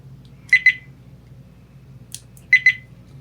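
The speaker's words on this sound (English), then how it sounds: "it's beeping at me since I don't have a memory card" A VIOFO A129 Pro dash cam without a memory card gives two pairs of sharp, high electronic beeps, each pair a quick double chirp about two seconds apart, loud and close against a quiet background.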